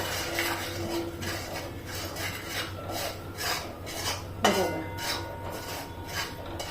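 Spice powders, salt and dry mango (amchur) powder being stirred together in a bowl for sambar vadi, giving a steady soft rasping, scraping rub with light clinks of utensil against the bowl and one sharper knock partway through.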